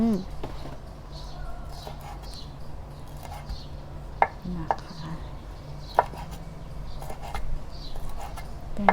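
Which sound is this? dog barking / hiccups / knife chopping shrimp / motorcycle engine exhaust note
knife chopping shrimp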